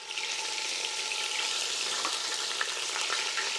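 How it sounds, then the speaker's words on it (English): Ginger and garlic frying in oil for a chilli chicken tikka curry, giving a steady dense sizzle with faint crackles throughout, close and fairly even, no voices. "the first thing we're going to do in this curry is fry the ginger and the garlic"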